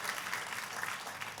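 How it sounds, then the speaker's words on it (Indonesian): Congregation applauding in a church service, a steady wash of many hands clapping together throughout, fairly faint and without a break. "Kasih tepuk tangannya pula yang paling meriah buat Tuhan."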